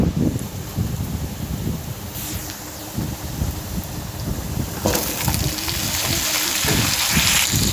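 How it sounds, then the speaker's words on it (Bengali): Malabar spinach, pumpkin and potato sizzle in hot oil with onion in a wok, making a continuous crackling hiss close by that grows louder and fuller partway through. "পুঁইশাক, কুমড়ো, আলু, এই সবজিটা এখন আমি কড়ার মধ্যে দিয়ে দেব।"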